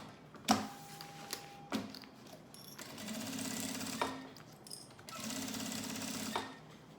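A sewing machine stitches fabric for a mask holder in three running bursts of rapid mechanical whirring and needle clatter, each starting and stopping with a clunk, separated by short quiet gaps, close up with no voices.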